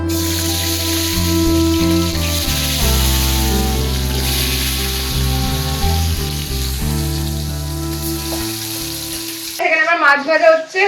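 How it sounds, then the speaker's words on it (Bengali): Fish sizzles and spits in hot oil in a home kitchen pan, a steady frying hiss that holds throughout, with a tonal hum running beneath and a burst of clattering near the end. "মাছ ভাজা হচ্ছে"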